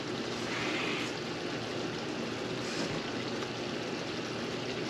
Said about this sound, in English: And there goes a 1/4 cup of our water.